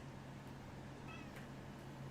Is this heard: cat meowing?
yes